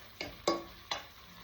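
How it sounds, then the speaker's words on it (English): Beef curry for bunny chow fries in a pot, a soft sizzle running underneath. Three distinct scraping stirs cut through it in quick succession, close and fairly quiet. "So this is just going to fry for about a minute."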